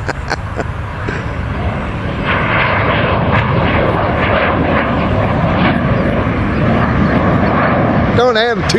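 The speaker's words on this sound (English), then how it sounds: "Got a jet leaving." A jet airliner departing from a nearby airport during a hot air balloon championship, a steady broadband engine roar that holds loud and continuous throughout, with a voice speaking faintly over it near the end.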